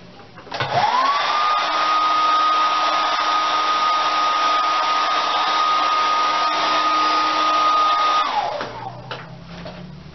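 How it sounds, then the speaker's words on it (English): A hair dryer blows steadily on a blonde 613 quick weave in a salon, running loud and continuous for about eight seconds after a rising start, then winding down at the end. "Blow dry it."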